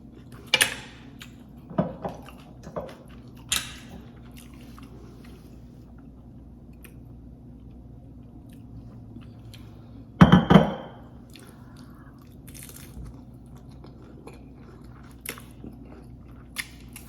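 Someone eats steak nachos up close, with a few scattered crunchy bites, one louder crunch partway through, and soft chewing in quiet between them.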